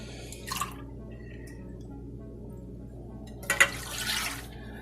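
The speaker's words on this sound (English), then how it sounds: "over low heat, you're gonna want to add your milk" Milk poured into a pan over low heat for custard gives two short, soft liquid splashes, one near the start and a longer one toward the end, faint against a quiet room.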